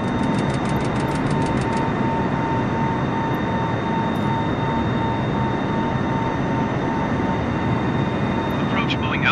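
A Boeing 747 in Microsoft Flight Simulator 2020 gives a loud, steady jet engine drone that fills the whole stretch, with repeated electronic cockpit tones near the start.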